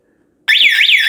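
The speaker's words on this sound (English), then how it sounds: "both the sirens picked it up, and your outdoor siren and indoor siren started beeping" After a moment of silence, the indoor and outdoor sirens of a wireless intruder alarm system burst on, sweeping up and down in a rapid, piercing wail.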